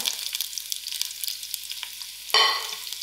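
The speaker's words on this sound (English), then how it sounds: "firstly I'm going to put in my onions to fry." Chopped onions hit melted ghee in a pan and start frying, a steady crackling hiss running throughout, with a sudden louder sizzling burst near the end, close and with no talking.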